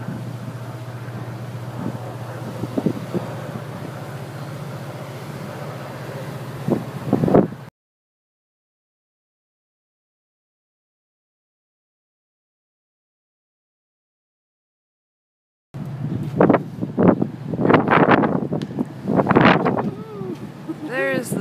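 Wind rushes and buffets the microphone with a steady low roar, cutting out to silence midway before returning with gusts and brief voices.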